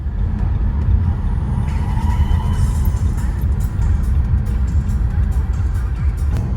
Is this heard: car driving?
yes